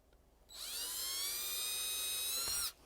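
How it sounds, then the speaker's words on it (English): Power drill boring a hole in a pipe cap, a high whining buzz that starts abruptly, holds steady for about two seconds and then cuts off, close and alone with no speech. "Maybe I should have drilled the cap before it went on there."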